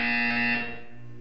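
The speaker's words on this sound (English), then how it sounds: "When you hear the buzzer, look up at the ceiling." A short electronic buzzer tone from the video game Portal 2 sounds once, a loud harmonic buzz that holds for about half a second and then fades, with no talk over it.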